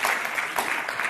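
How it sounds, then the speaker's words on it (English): Audience applause at a LiveAware Expo health talk, a short, dense burst of many hands clapping fairly close and steady. "You can applaud now."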